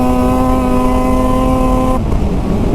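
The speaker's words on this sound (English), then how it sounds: "I love that even though it's a two-stroke, even though it smells nice, even though it sounds like that" A Ski-Doo two-stroke snowmobile engine idles loudly and close, a steady buzzing drone with a strong harmonic hum that cuts off abruptly about two seconds in, leaving rougher noise.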